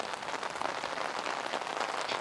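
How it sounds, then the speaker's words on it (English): Steady rain falls alone as a dense, even hiss of drops on a surface, moderately quiet and unbroken throughout. "But it's still raining."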